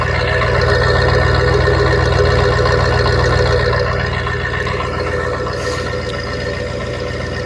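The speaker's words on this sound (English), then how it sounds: "Exhaust tone." A 1977 Ford Ranchero with a 351 V8 idles steadily, its exhaust giving a deep, even rumble that holds close and constant throughout with no talking over it.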